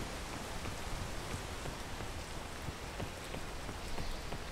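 Steady, dense rain in the video game Peak hisses evenly throughout, close and loud, with scattered droplet taps over a constant wash and no voices.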